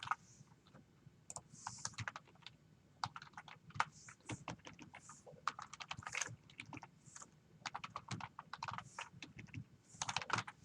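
Names are typed on a computer keyboard in a quiet room: soft, close, irregular key clicks in quick bursts and short pauses, with no talking.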